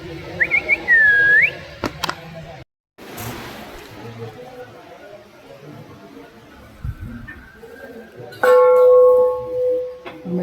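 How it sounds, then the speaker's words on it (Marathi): A large temple bell at the Siddhnath temple in Mhaswad is struck once near the end and rings on with a long, humming decay. Earlier there is whistling and faint crowd chatter. "घंटा बघा केवढी मोठी आहे."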